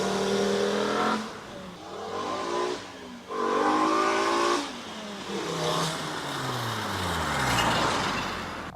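A five-cylinder-swapped VW Mk2 GTI engine revs hard in a series of loud, close blips, the pitch climbing and falling between throttle stabs before settling into a rough, raspy high idle.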